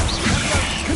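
A Confringo blasting spell explodes in Hogwarts Legacy, a loud, dense crashing burst that fills the whole second with no pause.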